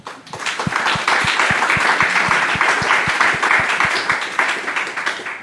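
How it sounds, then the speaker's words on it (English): A panel audience at an African business summit applauds in a continuous crowd clap, with one nearby person's sharp, regular claps standing out clearly above the general applause before it tapers off. "I would like to request a round of applause for Humphrey."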